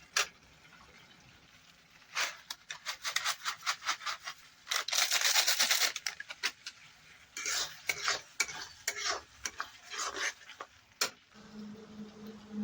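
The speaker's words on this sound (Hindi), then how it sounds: "मैं इसमें सेव डाल दिया हूँ। अब तो मिक्स कर देता हूँ मसाले के साथ में" Sev being mixed with melted, dried-down masala in a pan for sev tomato: rapid, repeated scraping and stirring strokes in uneven bursts, close and fairly loud, with a few pauses between rounds and no talking.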